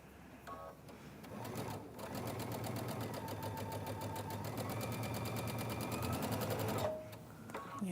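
A sewing machine stitches quilt pieces for a tumbler-block table runner in one long, steady, close run of fast rhythmic needle clatter, briefly pausing and then stopping near the end.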